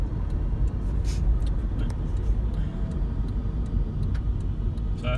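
A 2006 Toyota Prius with a plug-in hybrid conversion rolls slowly around a roundabout, giving a steady low road rumble and tyre noise from inside the cabin with a few faint ticks, no voices.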